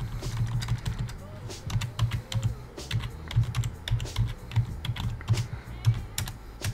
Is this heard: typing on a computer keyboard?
yes